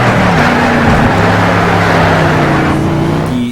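Racing car engine in Need for Speed Shift roars loudly and steadily with rising pitch and a shrill tire squeal layered on top, continuous for several seconds before cutting off abruptly at the end.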